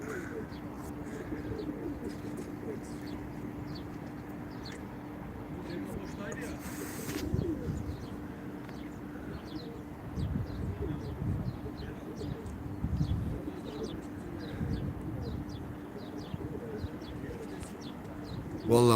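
Soft pigeon-like cooing repeats in the background amid outdoor noise, with a hum and occasional rustles and movement sounds.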